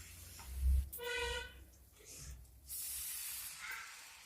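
Water poured into frying masala in a pan sets off a sharp hiss and sizzle that rises, dips, then returns as a steady spray-like sizzle, fairly quiet and close.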